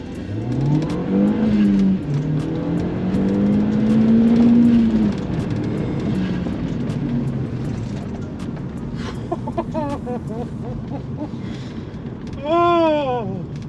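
An Audi TT 225 Quattro accelerating hard in a 0-60 mph run: the engine note climbs steadily through the revs, dips at a gear change, then rises again, loud and close, with a short burst of voice near the end.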